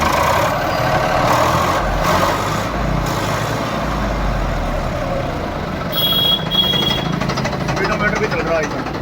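Used second-hand tractor engine started and running at a tractor market, a steady low rumbling idle throughout with people talking nearby.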